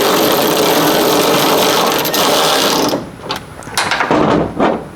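A powered automatic ratchet whirs steadily for about three seconds while tightening a bolt on a Toyota Tacoma, then stops, leaving a few short mechanical clicks and rattles up close.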